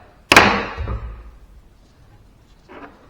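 A brass punch is struck to knock a hydraulic cylinder head back, giving one sharp metallic bang that rings and decays, then a fainter knock later, close up with no speech.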